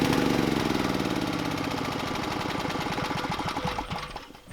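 A small gasoline engine runs loudly and steadily up close with a rapid, even firing rhythm, sustained throughout before dipping slightly at the end.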